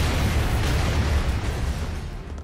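An Irish grenade explodes in Broforce as a dense, rumbling boom that sustains loudly for a couple of seconds and then slowly fades.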